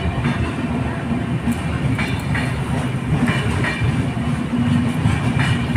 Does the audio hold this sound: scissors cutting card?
no